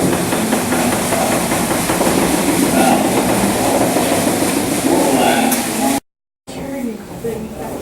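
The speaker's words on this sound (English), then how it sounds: "piston rod going up and down. That rod pushing the whole piston." Historic furnace machinery clanks and rumbles steadily as a piston rod drives up and down, a dense loud mechanical churn with rhythmic knocking, cut off briefly near the end before resuming.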